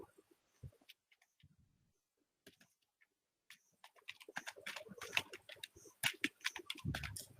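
Keys tapped on a computer keyboard while entering a word into an Excel spreadsheet cell, sparse soft clicks at first, then a denser, louder run of quick keystrokes ending in a heavier thump, with no talking.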